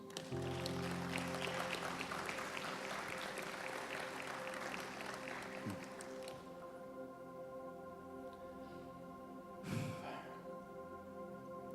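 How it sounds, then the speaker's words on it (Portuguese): Congregation applauding during a church sermon: dense, steady clapping fills the first six seconds, then fades into a quieter room with a low hum and a brief bump near the end. "Vocês podem aplaudir Jesus?"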